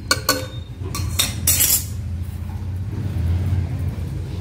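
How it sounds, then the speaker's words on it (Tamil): Ingredients are tipped into a pot of cooked dal for Tirunelveli-style tiffin sambar: a few sharp metallic clinks of a utensil against the pot up front, then a low, steady kitchen hum. "இப்போ எல்லாத்தையும் பருப்பில் எடுத்து போட்டுடலாம்"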